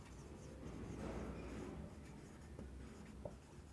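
Chalk or marker scratching steadily on a board during a chemistry lesson on amines, a continuous dry scraping that runs throughout with no talk over it.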